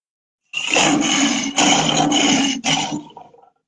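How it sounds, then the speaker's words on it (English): A lion roars loudly and close, a rough, rumbling growl broken into three surging pushes that fade away at the end, with no one speaking. "Now that sound is lion power."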